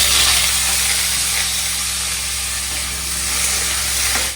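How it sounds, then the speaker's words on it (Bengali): Potatoes fry in hot oil seasoned with panch phoron, giving a loud, continuous close sizzle with a bright hiss and no pauses. "একটুখানি ভেজে নিয়ে দিচ্ছি"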